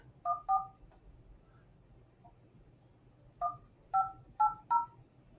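Touch-tone telephone keypad beeps as a number is dialed: two quick tones, a pause of almost three seconds, then four more evenly spaced beeps, clear over a low background hum.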